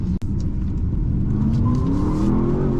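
A Porsche plug-in hybrid's combustion engine revs hard, its loud, close growl climbing steadily in pitch over a deep rumble, with a brief click near the start.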